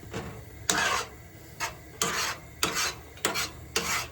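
A utensil scrapes the bottom of a cooking pot of simmering garlic Alfredo with venison backstrap on a hunting camp stove, in five or six separate rasping strokes with short pauses between them, close and fairly loud.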